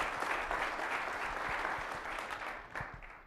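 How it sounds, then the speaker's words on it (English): An audience claps steadily to welcome a guest lecturer at an executive lecture series, a dense, sustained round of applause that holds strong and then tapers slightly toward the end. "let's just welcome him with a round of applause"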